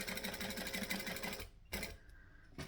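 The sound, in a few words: sewing machine stitching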